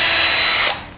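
A power drill bores a small hole into a board of honey locust wood in a woodshop, giving one loud, close whirring burst that stops abruptly and trails off into silence.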